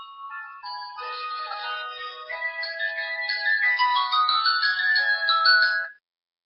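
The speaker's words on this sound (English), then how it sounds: "someone's phone's ringing" A melodic mobile phone ringtone chimes continuously for about six seconds, growing slightly louder before stopping abruptly, with no talk over it.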